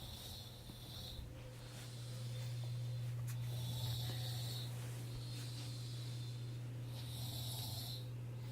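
A man snoring deeply in his sleep, slow rasping breaths with a steady low drone beneath, rising and falling at an even rhythm, quiet and close.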